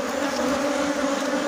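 Orphaned honeybees at an opened hive during colony division form a steady, close buzzing drone that holds level and unbroken with no voices.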